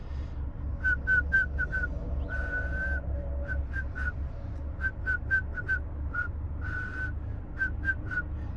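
A person imitates monotone, tuneless whistling: short bursts on nearly one pitch, with an occasional longer held note, in uneven Morse-code-like groups over a low background rumble.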